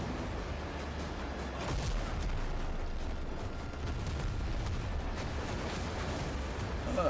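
Ship cannons firing in the Windrose naval combat game, a dense, continuous barrage of booming blasts and rumbling impacts that stays loud throughout.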